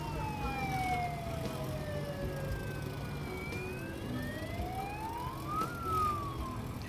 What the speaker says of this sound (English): Surprised by the siren